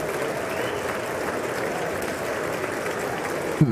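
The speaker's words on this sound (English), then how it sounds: "I'm hearing the clapping in my headphones." Sustained applause fills the chamber at the 2019 State of the Union address, a thick, continuous roar of many hands clapping at an even level.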